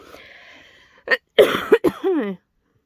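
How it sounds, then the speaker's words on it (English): A few harsh coughs in quick succession from a person with COVID, close and loud, followed by a throat-clearing rasp, with quiet background before them. "as you'll have just heard, I still have a cough."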